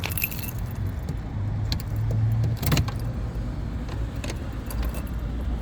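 Keys jangling close by while unlocking a Jeep, a short bright metallic rattle peaking briefly in the middle against faint outdoor traffic hum.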